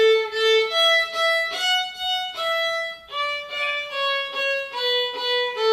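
A young beginner child plays violin, simple sustained notes in a slow stepwise line, each bowed tone clear and steady with slight unevenness, alone with no talking.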